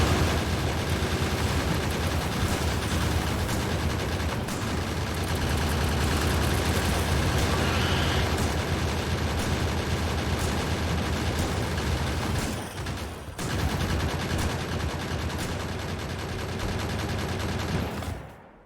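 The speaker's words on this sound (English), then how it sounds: "put down a couple gun turrets to distract the worm" Gun turrets in Factorio fire continuously at attacking worms, a dense, steady rattle of automatic gunfire that fills the whole stretch, with a brief dip near the end before the barrage resumes and cuts off.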